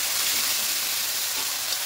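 Spice paste for a spicy duck egg curry fries in hot oil, giving a dense, steady hiss at close range with no pauses.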